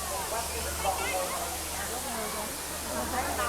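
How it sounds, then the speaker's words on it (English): Water rushes down a waterfall seen from the Burma Railway train route between Bangkok and Kanchanaburi in Thailand, a steady hiss beneath a low rumble of the moving train, with faint voices and murmuring in the background. "Look at this waterfall."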